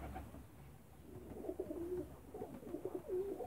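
Ornamental pigeons coo softly in a loft, low rolling calls repeating in short bursts at close range over a quiet, faintly rustling background.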